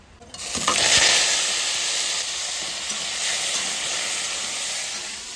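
Taro pieces go into hot oil already tempered with fried bay leaf and black cumin, setting off a loud burst of hissing sizzle that settles into a strong, steady fry.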